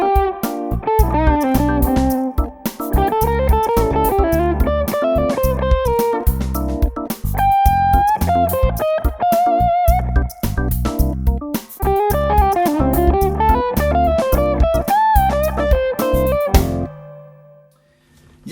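Electric guitar plays fast fusion lines from a 1986 album, over a busy rhythm backing, loud and continuous before fading out at the end.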